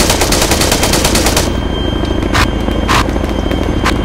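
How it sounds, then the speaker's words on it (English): Loud, sustained roaring bursts of minigun fire in the Arma 3 video game, a continuous rattling stream for the first second and a half, then shorter sharp bursts over a heavy rumbling background. "Give room for those mini guns to fire."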